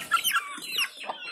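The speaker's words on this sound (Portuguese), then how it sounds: "Aqui é outro frango." Up close, a young cockerel lets out a short string of clucking calls, four or five bright chirpy notes in quick succession, fairly loud and alone.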